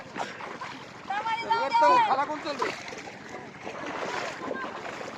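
A mare wades across a river with riders aboard, its movement heard as water sloshing and rushing beneath wind noise, while people talk over it.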